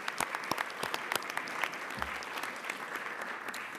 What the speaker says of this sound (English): So a big round of applause to all the amazing women.